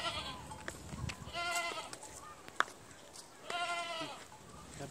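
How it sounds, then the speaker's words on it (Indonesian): A goat bleats several times nearby, wavering cries spaced through the clip with quieter moments between, alongside faint background activity. "Ayo, kita lihat kambing."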